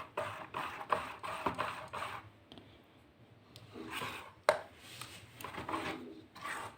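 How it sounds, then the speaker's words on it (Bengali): Malpua batter being stirred and mixed by hand in a bowl, giving repeated scraping, sloshing strokes in a steady rhythm, close and fairly quiet, with a short pause midway. "এইভাবে নাড়িয়ে ভালো করে গুলিয়ে নিতে হবে গোলাটা।"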